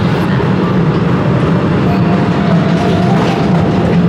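A train rumbles loudly and continuously through a cave tunnel, a steady heavy roar with faint rattling and no voices.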